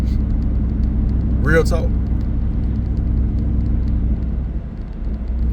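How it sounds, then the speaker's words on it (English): A truck engine rumbles steadily as it drives in a video game, a constant low droning hum, with someone briefly speaking over it partway through. "Me just driving this truck and not running into people right now."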